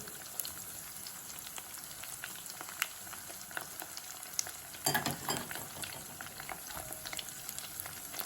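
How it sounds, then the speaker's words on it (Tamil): Garlic and green chillies frying in hot oil for a tinned fish curry, a steady dense crackle and sizzle with a brief louder burst of spattering midway, no voices. "நல்லா தாளித்து பொன்னிறமாக வரணும்."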